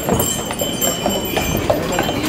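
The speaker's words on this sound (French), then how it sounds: "Ils sont bien, les chevaux, hein? Ils sont passés vite, hein?" Horses trot past at a small Christmas market, their hooves making a rapid, steady clip-clop close by amid a busy, noisy outdoor background.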